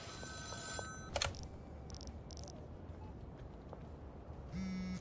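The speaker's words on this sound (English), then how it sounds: "Alright, payphone." A payphone rings in the video game Schedule 1, a short bright bell-like burst and then a few softer chiming tones, fairly faint over a low ambient bed.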